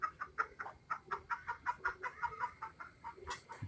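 Native chickens clucking in a backyard flock, a rapid string of short, close clucks in an uneven rhythm, with one sharper squawk near the end and no talking.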